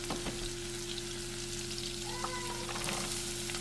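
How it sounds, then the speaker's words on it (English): Onions frying in a bubbling pot of soup base, a steady soft sizzle and bubbling that carries on evenly at moderate volume, with no talk over it. "it's good and bubbly and doing things and stuff, so she's gonna add her onions."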